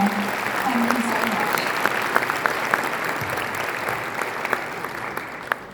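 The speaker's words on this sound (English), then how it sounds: "A really excellent round of applause then for Minister Omar Sultan Al Alama." An audience at the AI Everything Summit applauds Minister Omar Sultan Al Olama with dense, sustained clapping from a large crowd that holds steady through the whole stretch and thins slightly near the end.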